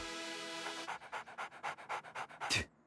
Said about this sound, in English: He's just a dog.